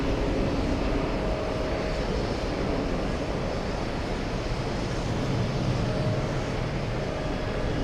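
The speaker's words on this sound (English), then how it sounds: "We're going to stay with the Condorian A330" Condor Airbus A330 jet airliner at JFK, a steady broadband engine roar holding evenly throughout with a faint tonal whine on top, continuous and fairly close, no voices.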